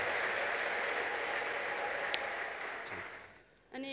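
A church congregation applauds in a loud, continuous patter of many hands, which thins and fades toward the end before a voice starts speaking.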